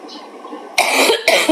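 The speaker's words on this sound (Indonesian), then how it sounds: "Aku lagi batuk nih teman-teman." A quiet breathy moment, then two harsh, loud coughs close to the microphone, the second following shortly after the first.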